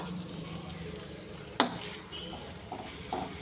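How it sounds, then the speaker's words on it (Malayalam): Masala being stirred into fried sardines in a pan for pickle, with a soft frying sizzle, one sharp utensil clink and a couple of gentle scraping stirs. "നന്നായിട്ട് ഇളക്കി അരപ്പെല്ലാം വറുത്ത് വച്ചിരിക്കുന്ന മത്തിയെ പിടിക്കണേ"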